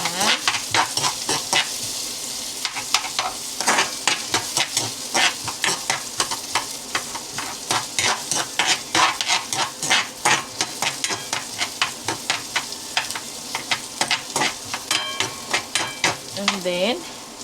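Ginger and then garlic fry in a fast-heating wok, a bright continuous sizzle broken by rapid, rhythmic scraping and tapping of a spatula against the pan, loud and close, with little else around.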